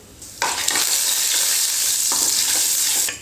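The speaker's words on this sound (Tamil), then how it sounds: "கடுகு பொரிஞ்சதும் உளுத்தம்பருப்பு ஒரு ஸ்பூன் சேர்த்துக்கிறேன்." Mustard seeds and urad dal sizzle and crackle in hot oil as a tempering for idli-dosa chutney, a loud sustained frying hiss with bursts of popping and stirring, no voices.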